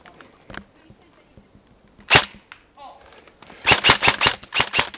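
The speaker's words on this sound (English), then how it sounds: "Lay down some suppressive fire across the bush, and then I'll push up and you get some fire from the back." Airsoft guns firing suppressive fire across bushes in a skirmish, a few isolated snapping shots followed by a rapid, loud burst of repeated shots close by.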